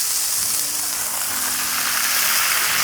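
Smashburger patties sizzle on a hot griddle top, a steady, dense, close frying hiss holding evenly throughout with no talk.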